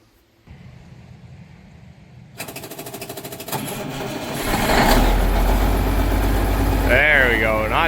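An engine cold-starting at about 4 degrees Celsius, cranking briefly before catching and rising into a loud, steady rough idle with some clatter, close to the microphone while a voice speaks over it.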